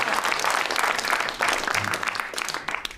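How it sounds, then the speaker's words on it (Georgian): Applause fills the scene in a Georgian comedy series, a dense burst of clapping that runs steadily across the whole moment, loud and close, with no voices rising above it. "ტაში მაინც დამიკარეთ."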